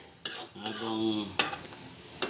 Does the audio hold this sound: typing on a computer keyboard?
no